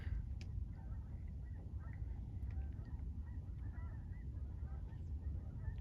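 Big flocks of geese honking as they fly over open water, a steady chorus of faint, distant honks over a continuous low rumble of wind or waves.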